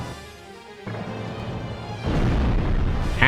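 Cannon fire in the mecha game Remote Control Dandy: heavy booming blasts that step up in loudness, one near the start, a bigger one midway and a sharp burst at the end.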